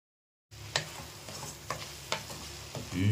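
Tomatoes with rock salt sautéing in a pan for Coimbatore chicken gravy, a quiet sizzle starting after a short silence, with a few scraping stirs and a rising clatter at the end.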